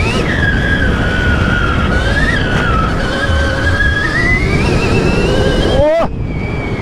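Tire noise from a Stark Varg EX electric motorcycle ridden slowly off-road: a steady close rolling hiss and whine under wind, with people talking over it.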